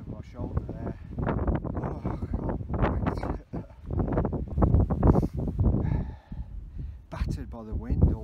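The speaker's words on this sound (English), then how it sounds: "Battered by the wind all the way up." Strong gusting wind buffets the microphone near the summit of Ben Lomond in the Scottish Highlands, a continuous low roaring rumble that rises and falls in loud surges throughout.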